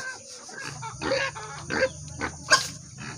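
A pig grunts several times outdoors in the morning, with short, rough, moderately loud grunts at irregular intervals and quiet gaps between them, and no talk over them.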